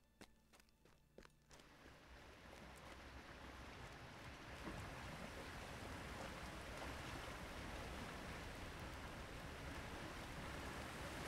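A video game waterfall gives a steady, broad rushing roar that swells gradually and stays dense and continuous, preceded by a few light taps and clicks in the first seconds.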